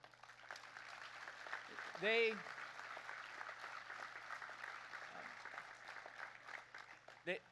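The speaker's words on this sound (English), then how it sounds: "we owe them a debt of gratitude and a round of applause" Distant, soft applause at a rally patters steadily throughout, with a brief tonal blip partway through.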